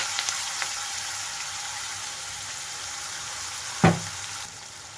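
Masala paste for egg curry, added after curry leaves, frying in a hot pan: a steady, close hiss and sizzle with a soft thud near the end, and no talking.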